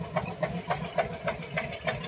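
An Eicher or Farmtrac tractor stuck with a loaded trolley idles with a steady, pulsing engine chug, regular beats roughly every quarter second, moderately close and alone with no talk.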